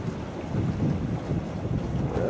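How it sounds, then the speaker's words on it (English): Storm waves from Hurricane Irene wash over an eroded barrier beach on Fire Island, Long Island, a steady, loud roar of surf churning close by, mixed with heavy wind buffeting the microphone throughout. "Waves are washing over and then spilling right back to the ocean right through here."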